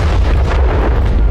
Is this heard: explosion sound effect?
yes